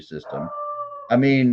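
A pet dog howls nearby with a sustained, wavering tone, then a second louder howl breaks in, cutting across a man's speech during an indoor talk.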